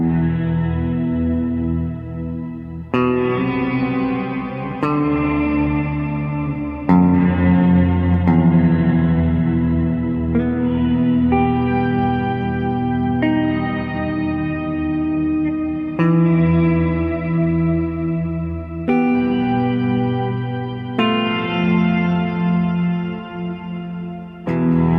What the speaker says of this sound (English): So this one runs one shimmer at an octave up and another at an octave down.